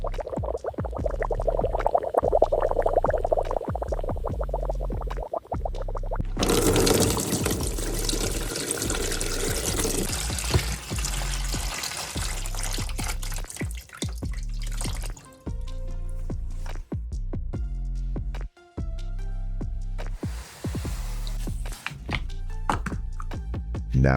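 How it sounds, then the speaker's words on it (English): Old liquid with dirt and rust drains out of a car battery, a steady trickle and dripping that runs close by for the whole stretch, with scattered splashy drops and a sharper, noisier gush partway through. "Let's drain out all the old dirt, rust, and buildup."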